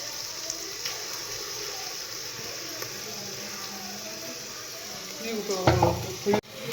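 Food fries under a lid in a pan, a steady even sizzle that swells louder with clattering and stirring near the end before a brief drop.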